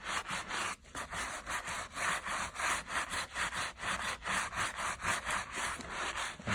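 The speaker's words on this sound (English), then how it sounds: "Just gonna scrub that down." Someone scrubs Nike sneakers clean with a brush in quick, rhythmic back-and-forth strokes, a close, bristly rasp repeating about twice a second with no talking.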